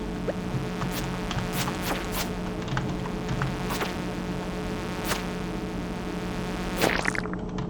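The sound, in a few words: bugs buzzing in the video game Stardew Valley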